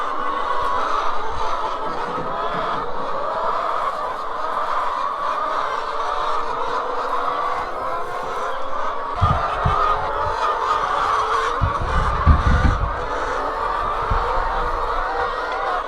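Chickens laying jumbo and extra-large eggs make a dense, continuous clucking and chattering in the coop, loud and close, with a few louder squawks and some low bumps near the end.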